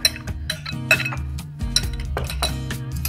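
A cabbage and fruit salad is tossed with dressing in a bowl, with a utensil clinking and knocking against the bowl in quick, uneven strokes, close and fairly loud.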